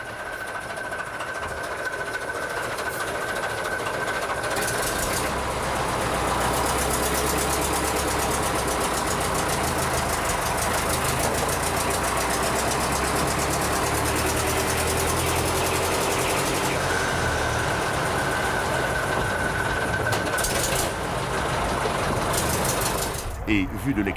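Engine of a Le Vivarais heritage railcar running at low revs, a loud steady diesel rumble and drone with a sustained whine, heard close up from inside and continuing throughout with only brief shifts in tone.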